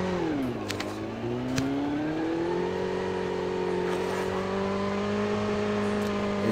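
A motorcycle engine in the Call of Duty Mobile video game drones steadily, its pitch dipping briefly then rising and holding as the bike gets underway, loud and continuous.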